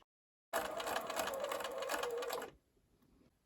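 A sewing machine stitches through fabric in one steady, continuous burst of about two seconds, with a rapid mechanical whir and needle chatter, then cuts off abruptly into near silence. No voices are heard.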